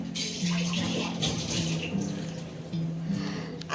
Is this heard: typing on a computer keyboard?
no